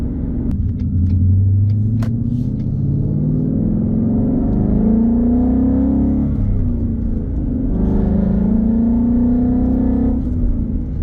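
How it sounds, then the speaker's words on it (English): A 2020 Ford Mustang GT with an MBRP exhaust pulls through the gears, its loud, rowdy V8 rising in pitch with each acceleration and dropping between shifts, heard from inside the cabin. "Love the exhaust. It's just rowdy enough,"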